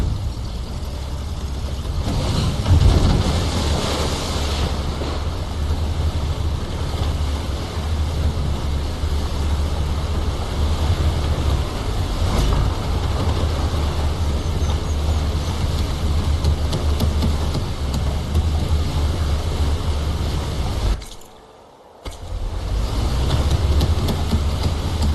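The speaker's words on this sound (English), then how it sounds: "Okay, back to sailing." Sailing a raft across open water in Horizon Forbidden West's Burning Shore, with a steady, unbroken rush of wind and water. The sound holds at an even level and drops out briefly near the end.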